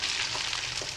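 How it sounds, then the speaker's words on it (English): Eggs frying in a pan give a brief, even sizzle and crackle, close and fairly soft, with no voices over it. "Looks like a frying pan and some eggs to me."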